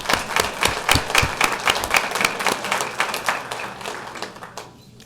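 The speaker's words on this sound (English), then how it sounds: "Give her a round of applause." Applause at a school board meeting as a new member stands to be welcomed; a small group claps close by, the individual hand claps crisp and distinct before thinning out and stopping near the end.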